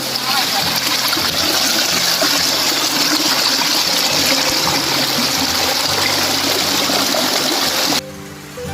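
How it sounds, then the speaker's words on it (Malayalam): A small waterfall and flowing stream in the rainy season send up a loud, continuous rushing roar close by, which drops away abruptly near the end. "ഉണ്ട് ചെറിയൊരു വെള്ളച്ചാട്ടം"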